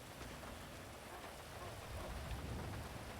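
Rainfall in the GTA 5 roleplay video game, a dense steady hiss of rain with low rumbling underneath, quiet and unbroken throughout.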